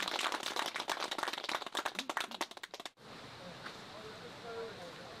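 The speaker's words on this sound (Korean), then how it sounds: "대중들에게 진심으로 마음을 담아 박수 한번 쳐드리겠습니다" A small group claps together for pilgrims on the final night of a 108-day Buddhist temple pilgrimage in Korea, a brisk scattered round lasting about three seconds that stops abruptly into quiet room tone.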